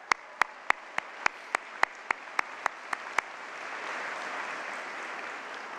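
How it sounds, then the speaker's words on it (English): At a commencement ceremony, about twelve crisp, evenly spaced claps ring out at first, then fade into a soft, diffuse wash of distant audience applause. "Let's give them a round of applause."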